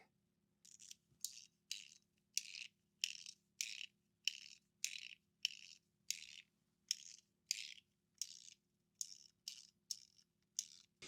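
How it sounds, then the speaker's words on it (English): A faint, steady series of short buzzy rattles, about twenty evenly spaced bursts, as a Metal Toys toy rolls over a ridged zipper plate on a plastic track. "it kind of gives it this initial pop and then the zipper sound"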